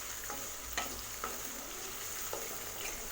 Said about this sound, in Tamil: வெங்காயம் பாருங்கள், இனி நம்மளுக்கு கொஞ்சம் வதங்கணும்